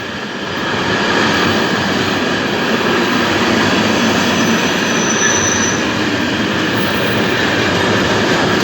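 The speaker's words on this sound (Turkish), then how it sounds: "Burası da tren istasyonu." A train rumbles steadily nearby at a station in Norway, with a broad, continuous roar and a faint high squeal from the wheels, no voices present.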